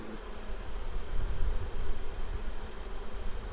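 Honeybees drone in a steady, dense buzz throughout an official provincial hive inspection, continuous and close with no voices.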